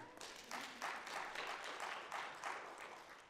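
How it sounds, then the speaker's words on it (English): Audience at a panel on mental health and politics applauding, a soft continuous patter of many hands clapping at a distance throughout, with no voices. "A round of applause for that, please."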